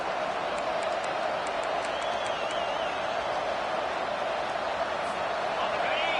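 A stadium crowd roars in a college football video game, a dense, continuous wash of cheering noise at steady loudness with faint high whistles mixed in.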